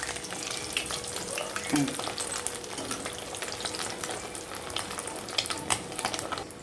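Fish fries in a pan with a dense, steady crackling sizzle, close and continuous, broken by a few scraping stirs as a piece is turned over.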